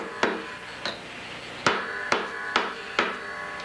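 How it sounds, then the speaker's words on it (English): A tack hammer shapes a shoe insole with six sharp, separate taps spaced about half a second apart, close and clear with no talk. "Take a tack hammer and just shape it to the bottom of the insole."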